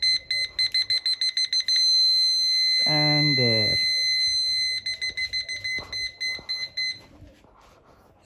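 A car's reverse parking sensor beeps in rapid regular pulses, pauses, then resumes, with a steady high tone beneath and someone speaking briefly in between.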